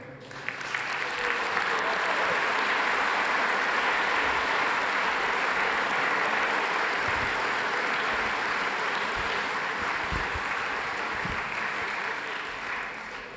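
A gala dinner audience gives sustained applause for a man celebrating his 95th birthday, a broad, even roar of many clapping hands lasting the whole stretch before tapering off.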